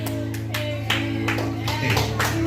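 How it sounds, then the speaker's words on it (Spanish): Applause from a church congregation for a volunteer demonstrator during a sermon, a steady patter of clapping spread across the room over a low sustained hum. "Give a round of applause to my demonstrator."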